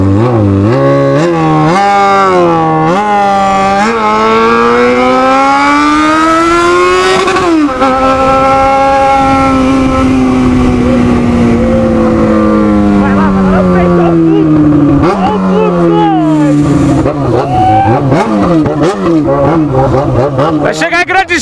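Jaguar XJ6 engine revved hard and repeatedly, loud and close, with pitch sweeping up and down through long sustained throttle blips, while people talk over it on a cold night.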